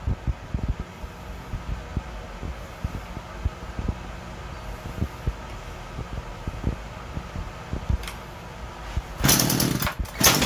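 An electric fan running outdoors on a hot day, with only one side working, giving a low steady whir broken by irregular clicks and knocks, then a short louder rush of noise near the end.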